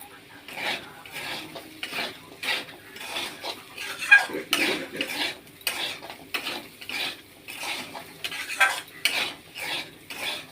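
Spices and salt being stirred and sautéed in a pan with a utensil, giving repeated rhythmic scraping and clinking strokes against the metal with a faint sizzle underneath, steady and close.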